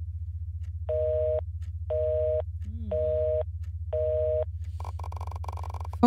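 A telephone busy signal in a horror video game pulses as four evenly spaced tones over a constant low hum, followed by a brief rising sound and then a harsher, buzzier tone at the end.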